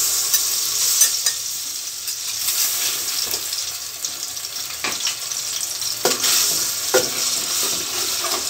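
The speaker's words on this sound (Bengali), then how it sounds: "ভালো করে একটু ভেজে নেব আদা রসুনটাকে" Ginger and garlic paste fries in hot oil with a loud, continuous bright sizzle, punctuated by several sharp spatula scrapes and taps against the pan.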